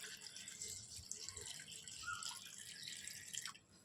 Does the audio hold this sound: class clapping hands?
no